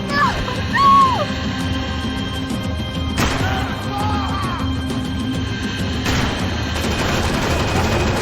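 Gunfire erupts in the video game Max Payne 3, a few loud sharp bursts amid a busy game soundscape with rumbling background noise, shouting voices and music-like tones around them.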